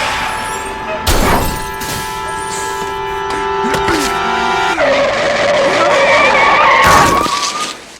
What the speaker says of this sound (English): the man begging for the bus to stop and then jumping off and getting hit by the car